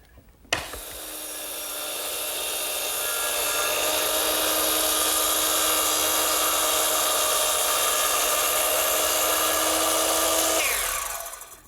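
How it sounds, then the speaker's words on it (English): A saw making a cross cut in wood for a Shaker step stool, a steady sustained rasping whine that starts abruptly, holds evenly for about ten seconds, then stops, close and loud with no talking. "Now I'll do that for all the other cross cuts."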